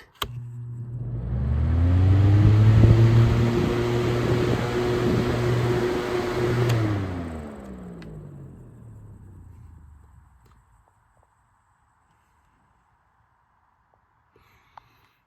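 A Holmes HAWF 2020N fan with its front grille removed starts up on high speed, heard from behind. A rising motor hum and rushing air hold steady, then wind down and fade to silence.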